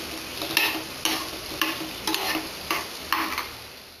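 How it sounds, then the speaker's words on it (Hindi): Potato pieces are stirred into roasted spices in a pan, the spoon scraping in steady strokes roughly every half second over a soft, continuous sizzle. "अब भुने हुए मसाले में कटे हुए आलू के पीसेस डाल लेते हैं और इसे हम अच्छे से मसाले के साथ मिला लेंगे।"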